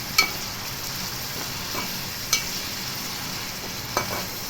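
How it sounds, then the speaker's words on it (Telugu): Onion paste frying in a pan with green chillies, a steady soft sizzle broken by a few sharp scrapes of the spoon stirring it, close by and fairly quiet. "పచ్చివాసన పోయే వరకు వేయించుకోవాలి"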